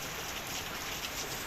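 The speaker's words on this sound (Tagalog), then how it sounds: "panay pa rin ang ulan" Steady rain pours down during flooding, a dense, even hiss with patter across the whole moment and no voices.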